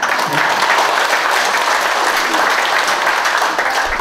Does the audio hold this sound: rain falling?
no